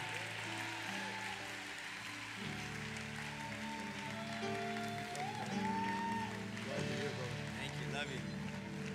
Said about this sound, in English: Clap your hands and welcome Nico LaHood, the district attorney of San Antonio.